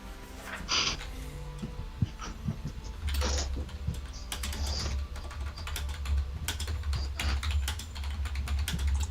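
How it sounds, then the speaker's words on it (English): Someone types steadily on a computer keyboard, a dense run of close, crisp clicks and clacks with occasional louder key strikes over a low hum. "Kev's typing."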